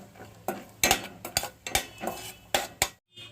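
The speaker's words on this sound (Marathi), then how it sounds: "तूप तापवलेलं आहे आणि त्यामध्ये हे सगळे ड्रायफ्रूट्स आहेत ते आपण मंद गॅसवर थोडेसे हलकेसे गुलाबी रंगावर आपण तळून घेऊया" Dry fruits frying in ghee over a low flame, heard as a series of distinct metal spoon clanks and scrapes against the pan above a faint sizzle, close and without speech.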